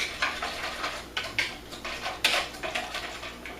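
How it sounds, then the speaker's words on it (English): An herby vinaigrette with salt and berbere spice whisked in a bowl, sounding as a run of quick, close clinking and scraping strokes in uneven bursts, with no talking. "Whisk it up."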